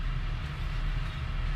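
An MP15DC locomotive hauling a train off a siding at slow speed in Train Sim World 2, producing a steady low rumble of wheels on rails with no talking.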